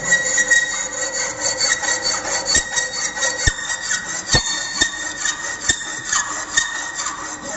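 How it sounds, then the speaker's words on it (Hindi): A hand file is drawn across the top surface of a metal workpiece in a fitter's workshop. Rhythmic, close rasping strokes repeat steadily, with occasional sharp knocks between them and no talking. "फाइल के द्वारा हम जॉब के ऊपरी सतह को फिनिश करते हैं।"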